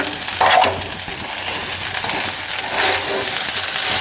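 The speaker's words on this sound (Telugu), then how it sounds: "అడుగు పట్టకుండా అయితే ఫ్రై చేసుకోవాలి" Vegetable fried rice, made with little oil and no sauces, fries in a pan with a continuous close sizzle and occasional scraping and stirring bursts, and no talk.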